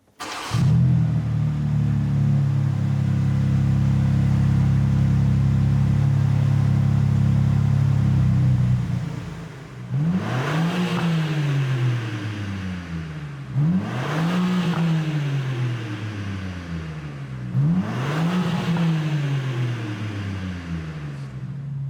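A BMW M4 CSL engine cranks and catches into a loud, steady idle, then is blipped three times in even succession, each rev swelling and falling away close by.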